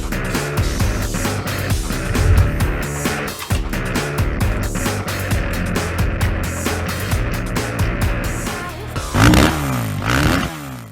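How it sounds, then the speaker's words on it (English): A 2022 Kawasaki KX112 two-stroke super mini dirt bike rides a small turn track, its engine loud and close with steady buzzing revs that rise and fall through gear changes, with bursts of acceleration near the end. "let's see how the big boy feels on KX112 on the little turn track I have here"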